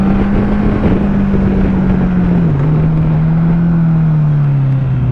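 A motorcycle engine on the road drones loud and close under rushing wind, its pitch dipping in small steps as the rider shifts down through the gears.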